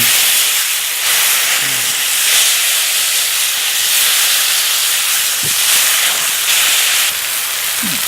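Bison steak searing on a grill, a loud steady sizzle and hiss running throughout with brief pops and spits, close and without talk.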